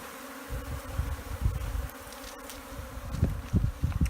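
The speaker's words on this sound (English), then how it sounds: "African killer bees." A swarm of African killer bees buzzes up close outdoors, a steady insect drone with dense low rumbling bursts as the bees crowd around, no voices present.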